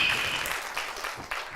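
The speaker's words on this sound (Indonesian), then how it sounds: "Kasih tepuk tangan, jangan setengah-setengah." Church congregation applauding during a sermon, a dense wash of clapping that starts loud and fades slightly over a short stretch.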